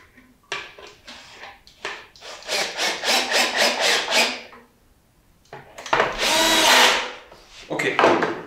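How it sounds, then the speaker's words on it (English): Normal screws being driven into a small wooden box with a power drill, three whirring bursts rising in pitch as each screw bites, the last long and strained, with no talk. "So now I'm just taking normal screws and screw the little box together."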